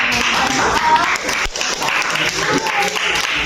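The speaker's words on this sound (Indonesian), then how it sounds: "Tepuk tangan." Classroom audience in a teacher-training lesson applauding, a loud burst of clapping with some cheering and crowd noise, briefly dipping midway before resuming, with a voice faintly audible in the mix.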